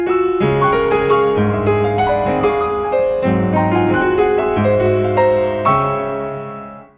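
Solo piano playing Albéniz's Lavapiés, imitating a street organ grinder with bright, bouncy repeated chords over a steady oom-pah bass, lively and loud, fading out on a final ringing chord.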